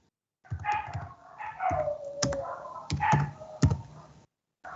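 A pet dog barks and howls in uneven bursts, mid-distance and fairly clear, with no voices over it and a few sharp clicking sounds in between.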